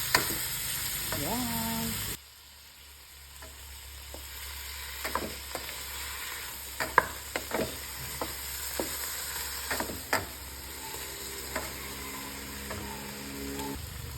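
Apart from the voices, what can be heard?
stirring food frying in a pan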